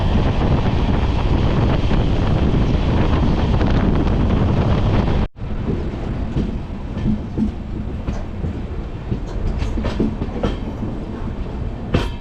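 Passenger train running near Farakka after Dhulian Ganga, a loud roaring rush with heavy wind noise at first, then after a sharp cut a lighter rolling rumble with rattles and clacks.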